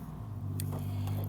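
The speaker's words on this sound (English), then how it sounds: "excuse the noise, I am in the middle of nowhere, and of course, that's when big trucks go by." A big truck passes on a road in a remote, empty area, giving a steady low engine rumble that holds throughout a brief moment with no talking.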